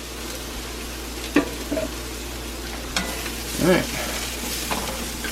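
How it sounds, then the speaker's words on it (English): Food stirred and scraped around an oiled cast iron pan with vegetable oil, beef and mushrooms, a few distinct scrapes and knocks over a soft continuous sizzle, with a brief spoken word. "Doing this is also going to allow me to scrape up a lot of the stuff at the bottom of the pan too."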